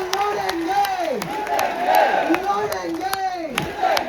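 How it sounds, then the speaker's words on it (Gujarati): A large crowd at a tribal political rally in Dediapada chants a rhythmic battle cry in unison while clapping, loud and sustained with repeated rising shouts. "હાથ ઉપર કરી તાળી વગાડીને મને કહેવાનું છે બોલો લડેંગે"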